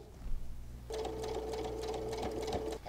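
A sewing machine stitches the final seam of a Friendship Star quilt block in one continuous, steady whirring run of about two seconds, fairly quiet and close.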